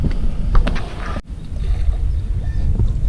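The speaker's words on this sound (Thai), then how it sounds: "เดี๋ยวต้องลงเรือนะฮะ" A small fishing boat rocks on open water as someone steps aboard, with a brief thump and knock near the start, then a steady wash of water and wind noise against the hull.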